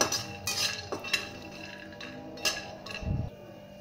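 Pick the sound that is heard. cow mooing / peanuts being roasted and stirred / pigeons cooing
peanuts being roasted and stirred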